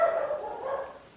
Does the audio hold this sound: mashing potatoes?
no